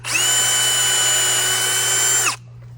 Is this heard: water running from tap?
no